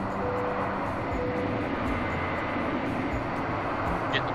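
An airliner's engines spool up to taxi at Atlanta airport, a steady, broad rumbling drone heard from inside the cabin, continuous and even throughout.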